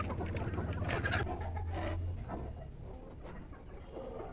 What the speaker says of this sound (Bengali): আমার এই মুরগিগুলা দেশি, ফাউমি, সোনালি সব মিলে।